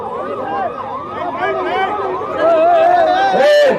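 An ambulance siren wails with rising and falling sweeps as it pushes through a crowded political victory rally in Bengaluru. It sounds loud and near, under constant crowd chatter and voices.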